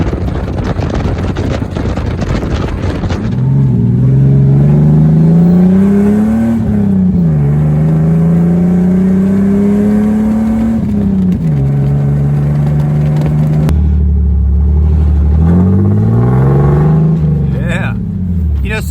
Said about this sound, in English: throaty exhaust with a little bumblebee kick to it is this pipe right here